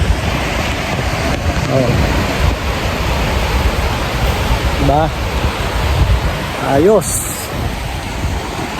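Pacific Ocean surf at a beach resort in Real, Quezon, a steady broad wash of waves with wind across the microphone, while people talk briefly nearby.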